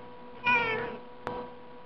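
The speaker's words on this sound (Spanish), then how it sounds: "Mi gatita les está hablando también" A pet female cat gives one clear, fairly close meow, followed by a faint short sound, with no talking over it.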